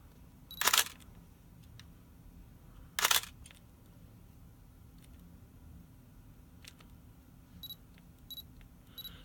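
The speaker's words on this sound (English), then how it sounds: "When the focus appears, you will hear the focus confirmation sound" A camera fitted with a Dandelion focus-confirmation chip on a manual lens gives a few short, quiet electronic beeps near the end, after two louder mechanical clicks in a quiet room.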